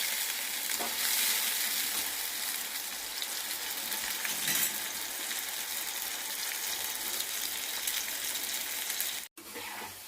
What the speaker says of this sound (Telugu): కొద్దిగా ఆయిల్ ఎక్కువ వేసుకొని ఫ్రై చేయాలి.